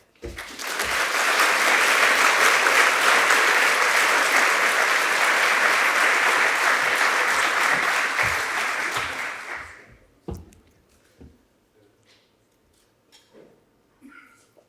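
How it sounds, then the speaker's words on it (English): A large audience at an academic year opening ceremony breaks into loud, sustained applause for a speaker, swelling quickly, holding for about nine seconds, then fading, with a few scattered sounds and faint talk after. "Please give a big round of applause for our first speaker, which is Oona Hathaway."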